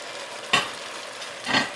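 Green onions and shrimp stir-fry over high heat, a soft steady sizzle broken by two brief bursts of louder hiss and scraping as the pan contents are tossed, close and without speech.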